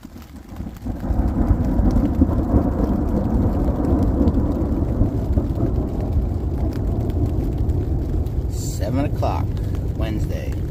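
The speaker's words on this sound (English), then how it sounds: "The rain literally held off until about 5 minutes ago." Steady rain falls on the Florida Trail in a constant close hiss with a low thunder rumble underneath, and a few faint clicks and rustles near the end.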